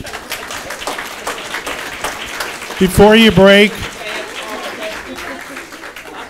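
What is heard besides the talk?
audience applause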